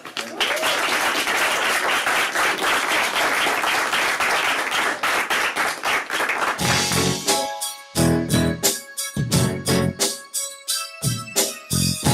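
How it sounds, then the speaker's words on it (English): A Van Nuys High School audience claps loudly and continuously for about six seconds, then the applause gives way to punchy rhythmic beats of music starting up. "So please put your hands together, give him a great Van Nuys High School cheer"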